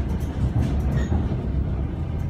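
Inside the dining car of a moving passenger train in Russia, a dense, continuous low rumble of wheels and carriage fills the space, with steady rattling and no clear pauses.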